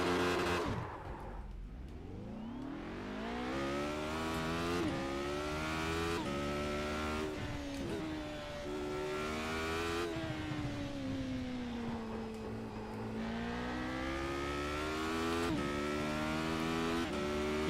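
A Skip Barber race car in the iRacing sim revs and pulls under throttle at the Nordschleife. Its steady engine drone sweeps up and down through the gears, dips low under braking, then climbs again, with no talk over it.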